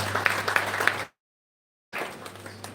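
A short burst of audience applause welcoming a seminar convener at a national teacher-education seminar, quiet and roomy over a low hum, cut off abruptly by a gap of silence before the clapping resumes.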